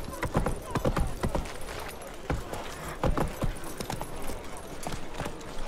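Clip-clop hoofbeats of a horse galloping in the video game The Witcher 3, a steady rapid rhythm of loud, close thuds with a brief whinny and some game noise in the background.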